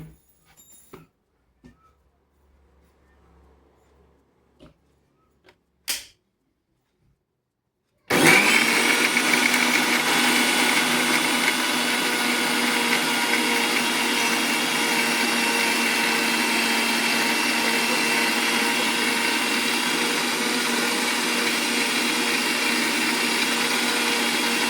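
Mixer grinder whirring as it grinds green chillies and cumin seeds: a few faint clicks and a short knock, then the motor starts abruptly and runs loud and steady for about sixteen seconds.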